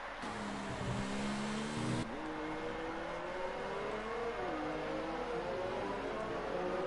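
F1 cars in a video game league race at Singapore: a steady, continuous whine of racing engines running throughout, with pitch shifts and gear changes and a sharp drop near the two-second mark.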